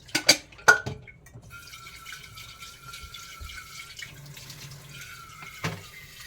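Tap water runs into a tank at night in a steady, soft stream, with a few sharp clanks at the start and again near the end.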